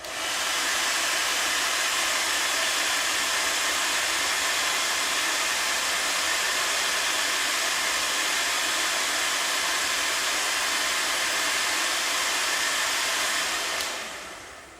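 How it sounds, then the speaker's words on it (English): Hair dryer blowing a steady stream of air to float a ping pong ball, a loud, continuous broadband whoosh that holds evenly for about fourteen seconds before switching off. "I have this ping pong ball and this air dryer. The dryer will be providing a wind stream"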